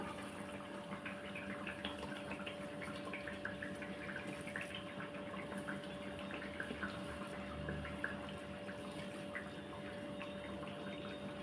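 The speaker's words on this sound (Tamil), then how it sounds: "இப்போ இது கொதிச்சுட்ருக்கட்டும்" Ginger and garlic mixture boiling in a pot, a faint steady bubbling and simmering that continues without a break.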